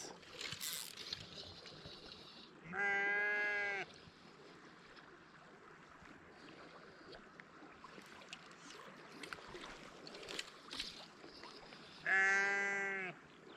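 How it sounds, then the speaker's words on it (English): A sheep in the New South Wales countryside gives two loud, drawn-out bleats several seconds apart, heard beside a trout stream with faint water and outdoor background between the calls. "Man, that is one loud sheep."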